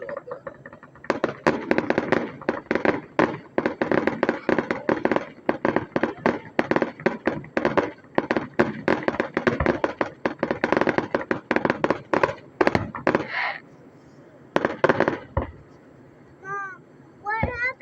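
Fourth of July fireworks bang and crackle in rapid, dense bursts for most of the stretch, loud and close, with a brief lull near the end and a voice faintly in the mix.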